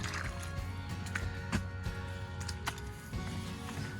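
Footsteps squish through soggy wetland ground where a pond should be, with wet sucking and dripping steps in an uneven rhythm, close by and steady, over faint outdoor background.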